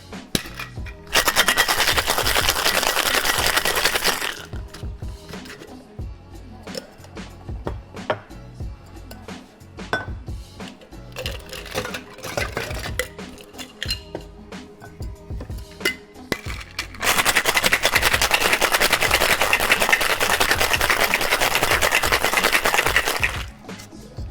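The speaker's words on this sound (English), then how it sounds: "I want to do a consistent shake between the two cocktails to truly test out how they compare" A cocktail shaker is dry-shaken with gin sour ingredients and egg white or aquafaba, in two loud, rapid rattling bursts of ice-free clatter with quieter clinks and handling noises between them.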